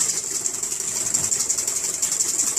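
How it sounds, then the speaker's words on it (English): A wire whisk beats egg yolks vigorously in a bowl for hollandaise, a fast, steady, scraping back-and-forth rattle that runs continuously at close range with no talking. "Just go back and forth, whisking vigorously."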